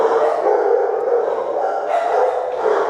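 Rescued dogs at an SPCA shelter barking and howling together in a dense, continuous chorus of overlapping voices, fairly loud and close throughout.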